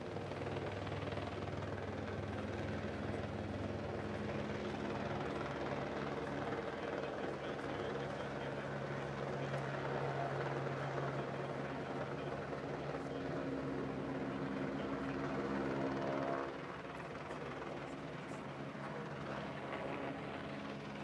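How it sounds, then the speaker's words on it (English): A helicopter landing nearby, its rotor and engine drone loud and continuous for about twenty seconds, easing slightly near the end at an outdoor coastal site. "we wait for that helicopter to land just behind us"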